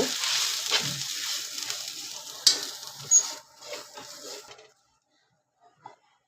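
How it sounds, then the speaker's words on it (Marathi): Malvani chilli masala with turmeric sautés in oil on a low flame, a soft sizzle with a few stirring scrapes that fades out, leaving near silence with a faint knock at the end. "तीन चमचे मालवणी तिखट मसाला पण ते मंद गॅसवर परतून घेऊ"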